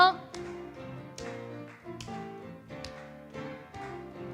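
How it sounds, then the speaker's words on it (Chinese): Congregation at an online prayer meeting clapping hands, steady rhythmic claps repeating under sung worship music and voices, moderately loud throughout. "我们继续来拍手"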